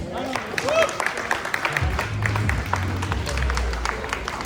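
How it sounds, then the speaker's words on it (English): Audience applause at a calisthenics workshop in Hyderabad: scattered claps build into a steady round of clapping, with voices talking through it and low rumbling underneath. "please give him a huge round of applause"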